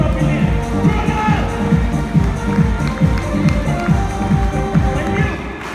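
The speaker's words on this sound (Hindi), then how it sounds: "अभी तक की एक जोरदार ताली उधर से तो मिली" Loud applause from an audience at a company sales meeting, a thick, continuous roar of clapping and crowd noise, near and steady throughout, with rhythmic thumping underneath.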